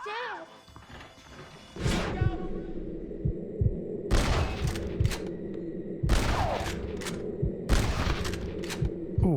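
Gunshots ring out in Red Dead Redemption, a handful of loud sharp blasts spaced a couple of seconds apart over game ambience, with voices talking between them.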